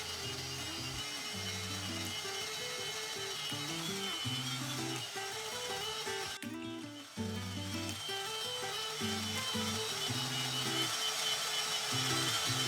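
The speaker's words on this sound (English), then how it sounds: "Now this belt sander is really good at removing material, but you can get very carried away with it quite quickly." Belt sander grinding old glue and plywood off the lip of a teak boat hatch, a loud continuous motor drone with shifting pitch and a brief dip midway, no speech.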